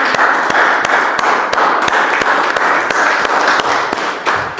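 A church congregation at a Sunday service claps together in a loud, dense burst of applause that continues steadily for several seconds.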